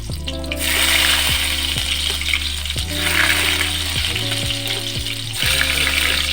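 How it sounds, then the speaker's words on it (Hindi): Ginger and garlic sizzle and crackle steadily in hot oil, loud and close, with tonal background music playing underneath. "ऑयल गर्म हो गया है। अब हम अदरक और लहसुन डाल देते हैं इसमें।"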